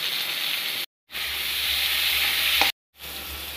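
Chopped tomato drops into a hot, oiled pan for a potato and okra curry, giving a loud, steady sizzle that runs on alone, broken by two brief silent gaps.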